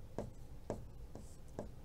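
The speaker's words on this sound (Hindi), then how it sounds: "जैसे मैं लिख देता हूं इस बात को" Marker or chalk strokes on a classroom board, four short separate scratchy strokes spaced about half a second apart, quiet and close with no voices.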